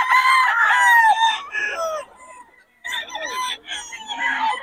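Roosters crowing at a chicken sale in Bocaue, several loud close crows in quick succession with a short pause between bursts, and a voice talking over them.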